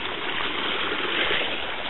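River water flowing into a pool along a hiking trail, a steady close rushing wash of moving water that stays even and continuous with no voices.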